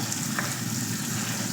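Garlic and onion sautéing in the pan where pork liver was just cooked, a steady soft sizzle and crackle running the whole time, fairly close and even, with no voices over it.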